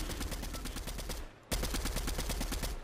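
Fortnite gunfire rattles out in rapid, loud, evenly spaced bursts, stops for a brief moment, then carries on at the same fast rhythm.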